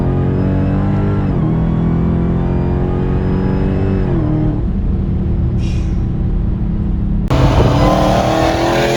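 A 1,000-horsepower Dodge Challenger Hellcat Redeye engine roars at full throttle, its pitch climbing steadily, dipping at a gear change, then surging again with a rougher blast near the end.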